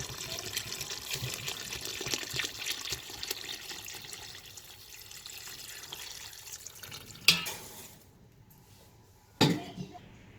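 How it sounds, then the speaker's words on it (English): Water running from a tap into a cooking pot holding lamb neck, a steady close splashing flow that thins out, followed by two sharp knocks or clunks. "I'm going to cover it with water"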